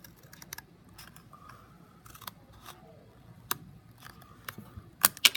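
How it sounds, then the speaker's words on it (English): Several crisp scissor snips cut through stiff board, close by, with irregular pauses between cuts and a couple of louder snaps near the end. "my scissors are pretty good,"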